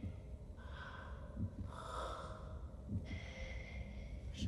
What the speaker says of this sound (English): Breathing is so damn heavy.